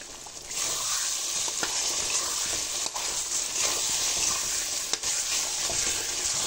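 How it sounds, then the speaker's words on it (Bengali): A paste of ginger, garlic and cumin frying with potatoes in a pan, giving a continuous loud sizzle broken by a few sharp clicks of a utensil stirring against the pot. "মশলাটা দিয়ে আমি হালকা একটু নেড়ে চেড়ে নিয়েছি"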